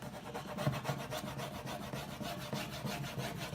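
A tool rubs and scrapes over an Iron Orchid Designs transfer medallion on a painted surface, making steady, rhythmic back-and-forth strokes that sound close and fairly loud, with no talking.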